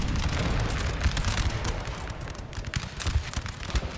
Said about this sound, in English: Oh, it has to be a lucky or near miss from the artillery.